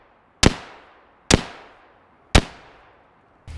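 Three sharp, loud gunshots of steel core penetrator rounds fired at a car used as cover, each a hard crack with a decaying tail about a second apart, and a fourth shot begins at the very end; no voices.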